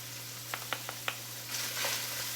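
Garlic and broccolini fry in a pan with a soft, steady sizzle that swells toward the end, after a few sharp utensil taps, over a low constant hum.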